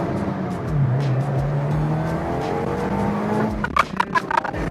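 A Subaru WRX with a newly fixed misfire and added chassis bracing pulls onto a freeway, its engine note climbing steadily under a continuous road and wind roar, with a few brief clicks near the end and no talking.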